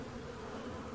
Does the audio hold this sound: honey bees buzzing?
yes